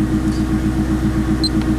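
A turbocharged 1.0 16-valve VW Parati idles steadily, its low, even engine rumble loud and close throughout, with no voices over it.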